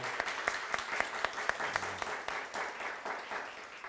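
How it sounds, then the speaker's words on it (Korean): Applause from a church congregation welcoming a visitor during a Korean Presbyterian Sunday worship service, a steady patter of many hands with a few sharper claps standing out, moderately loud in the sanctuary. "박수 한번 하겠습니다"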